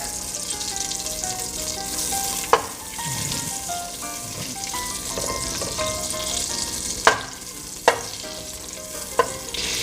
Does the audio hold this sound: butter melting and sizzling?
yes